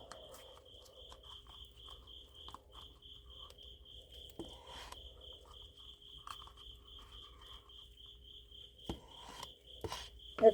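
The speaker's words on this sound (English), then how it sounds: "The crickets are chirping." Crickets chirp outdoors at sunset in a steady, faint, continuous high trill, with scattered soft knocks and scraping sounds nearby.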